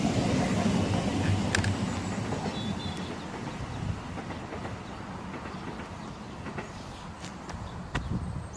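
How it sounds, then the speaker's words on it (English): A Thameslink class 700 train departs Swanley station on the South Eastern main line, its steady rolling rumble and wheel noise close by and fairly loud throughout, with a few sharp clicks over the rails. "1618 ThamesLink service from Sevenoaks to St Albans departs"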